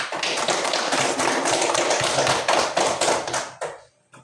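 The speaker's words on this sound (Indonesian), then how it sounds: "Oke, tepuk tangan dulu." A class of schoolchildren claps together in a dense, steady burst of applause for about three and a half seconds, then it stops abruptly.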